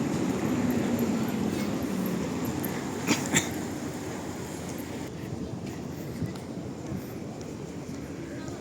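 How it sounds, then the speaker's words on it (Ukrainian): A number 6 tram passes along a sunny Lviv street, a steady broadband rolling rumble that fades slightly over several seconds amid general street noise, with a couple of brief clanks near the middle. "Трамвай номер 6 з вулиці Миколайчука на вокзал їде трамвайчик"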